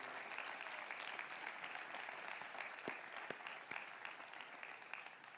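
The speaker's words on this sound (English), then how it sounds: "please offer for me and for yourself a round of applause to the faculty and staff" Applause for faculty and staff fills a graduation ceremony, a steady patter of many hands clapping at a distance, faint and continuous, with no talk over it.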